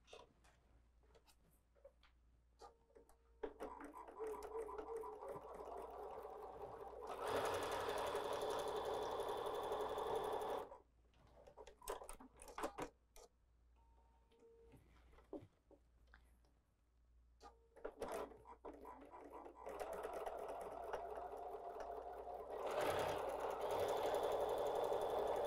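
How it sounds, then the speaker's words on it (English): Sewing machine stitching a log cabin quilt block along marked lines, running in two sustained whirring stretches with quieter handling clicks and rustles between, close by and without talking. "sew on the lines. Let's go do that together this time."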